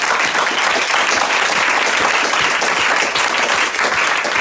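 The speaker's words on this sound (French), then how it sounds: "Si tu le crois, acclame très fort le Seigneur" A church congregation applauds and cheers for the Lord during a sermon, a dense, loud, steady roar of clapping that fills the whole moment without a break.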